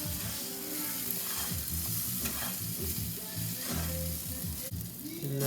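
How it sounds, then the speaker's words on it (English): White rice and garden vegetables stirred in an oiled pan give a dense, steady sizzle and frying hiss. A low hum from the kitchen runs underneath, and a few scraping strokes come through. "And just mix it all up."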